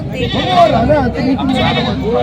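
A loud, wavering bleat from a large female goat close by, rising and falling over about two seconds, with overlapping animal calls.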